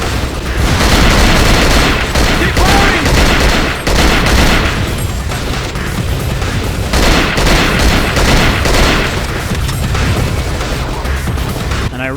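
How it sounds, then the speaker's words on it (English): Sustained enemy gunfire in the survival horror game Cold Fear, dense overlapping shots and booming bursts coming from far off, loud and continuous throughout with no pauses. "look how far back they're shooting me from"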